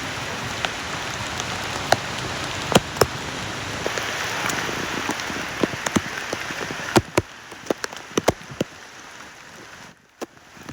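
Steady heavy monsoon rain pours down over Mumbai, with scattered sharp drips and taps striking a nearby surface, easing slightly toward the end.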